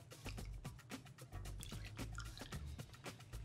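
Tonic water poured over a large ice cube and lime in a highball glass for a whiskey highball, a close run of fizzy drips and splashes that carries on for a few seconds with no voices.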